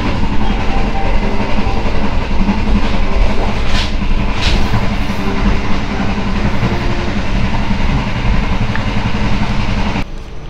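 An executive-class passenger train on the Singasari line rolls loudly along the rails close by, arriving at Bekasi, a constant heavy rumble with rhythmic clatter and a couple of brief hissing bursts.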